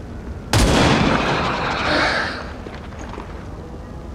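A Reaper soldier's single gunshot attack in XCOM 2 rings out as a loud, sharp blast with a booming echo that rolls on for about two seconds before fading.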